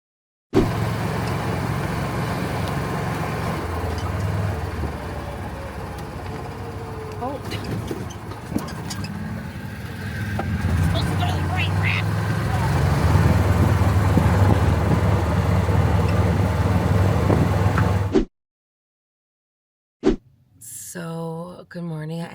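Cars speed past on a road beside a campsite at a Michigan dubstep music festival, a continuous rumbling traffic wash that swells and fades as vehicles pass close, with a voice talking briefly near the end.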